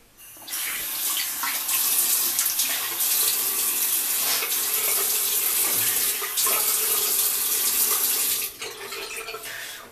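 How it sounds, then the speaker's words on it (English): Cool tap water runs into a bathroom sink while a face is rinsed after a shave. The close, continuous splashing rush holds steady for about ten seconds, with brief dips where hands break the stream, and it eases near the end. "I'll go ahead and rinse on my face with nice cool water."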